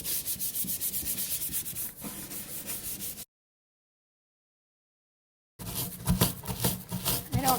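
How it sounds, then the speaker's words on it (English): A kitchen sink is scrubbed hard with a brush in steady rough rubbing strokes, close and loud, with a short silent break before the scrubbing resumes. "So I'm just gonna give a good scrub of my sink."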